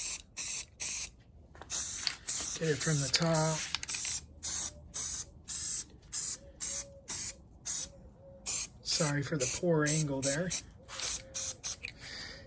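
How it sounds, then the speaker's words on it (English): Repeated short bursts of Loctite aerosol spray adhesive hissing in a steady stop-start rhythm, close by, with a person talking briefly in between. "I'm just going to go ahead and spray this Loctite over it."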